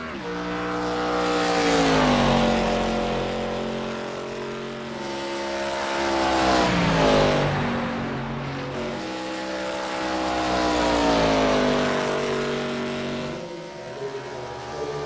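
A NASCAR-style ARCA Series stock car, number 6, heads out onto the track in iRacing. Its loud engine roars steadily and surges in repeated waves, the pitch climbing and falling through the gears.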